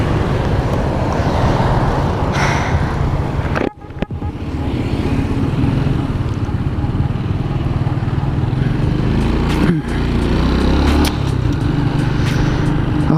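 A dirty motorcycle fitted with a cheap secondhand aftermarket exhaust rumbles steadily at close range, its engine droning continuously with a brief drop near the start and a short dip later.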